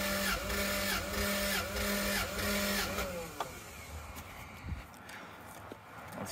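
Starter cranking a 1997 Toyota Land Cruiser 1FZ-FE engine during a compression test, a steady rhythmic chugging for about three seconds that then stops, leaving faint shop noise.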